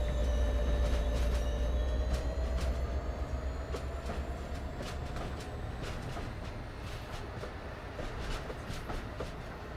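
A train running on rails in Train Sim World 2 rumbles steadily with a rising motor whine and repeated clickety-clack wheel beats, close and continuous, with no talk.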